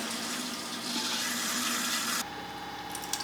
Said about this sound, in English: Water's flowing through. Then we will, it's gonna come out of here, and we're just gonna fill up a little bit.